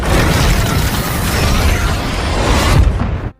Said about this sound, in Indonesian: Darren cuma bisa menyaksikan ketika Pym-Tech bersama seluruh risetnya selama ini meledak dan tersedot ke